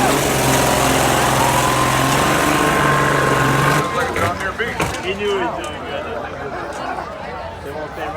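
A rough truck engine runs loud and close at a Hartford Fair race, a strained, uneven drone for the first few seconds, then fading as talk carries over the top.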